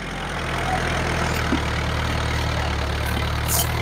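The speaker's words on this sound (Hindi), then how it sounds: "लो टॉप के अंदर दब रहा है ट्रैक्टर" A Kubota MU 4501 tractor engine drones steadily under load in low gear, pulling a fully lowered cultivator, a low continuous rumble with a constant throbbing hum and no talking.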